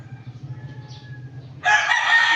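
A rooster crows loudly once, breaking in after a quiet stretch of low background hum.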